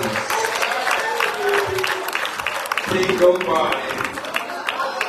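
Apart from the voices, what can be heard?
congregation hand clapping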